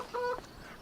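A chicken clucks once on a farm in Farming Simulator 25, a short nasal cluck heard alone, close and fairly clear.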